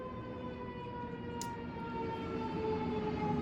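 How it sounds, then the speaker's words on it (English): A faint wailing siren with steady tonal lines over low traffic rumble, growing slightly louder toward the end as it passes. "and an ambulance goes by."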